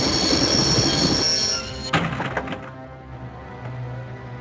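A train grinds to a stop in the video game Broken Sword: The Shadow of the Templars, with loud metallic wheel squeal and rumble, then clanks and jolts as the carriages settle and the noise dies away.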